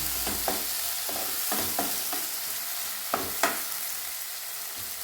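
Tomatoes hit onions frying in a pan for a cauliflower side dish, and a continuous soft sizzle runs under irregular clicks and scrapes from stirring.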